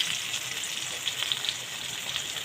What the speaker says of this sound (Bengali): রসুনটা আমি একটু তেলে ভেজে নেব।